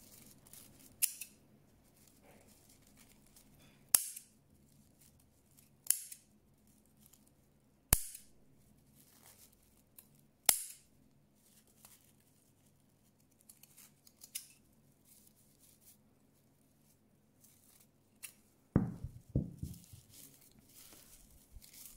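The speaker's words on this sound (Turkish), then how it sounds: "Şimdi alt kısmını artık kesebilirim." Scissors snip through paper rope while a tasselled bag is being made, giving a series of sharp, separate cuts spaced a few seconds apart against a quiet background, with a louder rustling burst near the end.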